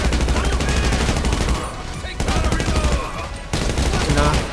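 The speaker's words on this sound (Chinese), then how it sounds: "捡到他们的枪了，我来扫射一下。" Rapid machine-gun fire sprays in bursts during a Star Wars-themed GTA 5 mission, loud and continuous with brief gaps between volleys, under a talking player's voice.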